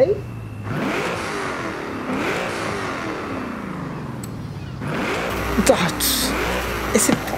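Twin-turbo engine of a 2005 Vauxhall Monaro VXR in Forza Horizon 5 revs up and down in loud repeated sweeps, building to a sharper burst near the end with turbo chatter.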